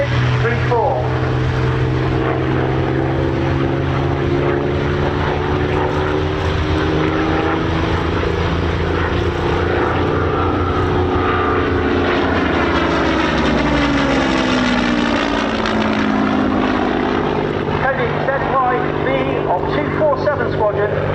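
A Hawker Hurricane Mark IIc, PZ-865 in all-black night fighter colours, flies over the RAF Cosford air show, its piston engine and propeller droning loud and continuous, swelling and shifting pitch as it passes.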